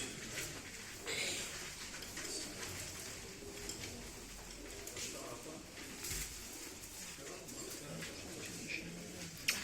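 Pigeons or doves coo among other birds at a bird auction, soft low cooing and chirps scattered over a faint, busy indoor background with distant murmuring.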